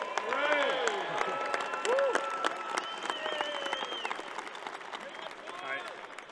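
At a rugby sevens tournament, a crowd claps and cheers for the German team, with scattered applause, shouts and whistles mixing with nearby voices talking throughout.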